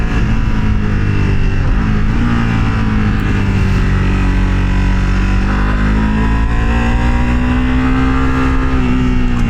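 A Ducati Panigale V2 in race mode roars continuously up close, its engine tone rising and settling as it revs and pulls through gears, loud and unbroken throughout.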